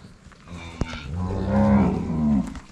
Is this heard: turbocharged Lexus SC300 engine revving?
no